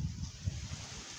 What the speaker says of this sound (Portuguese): Que vento forte.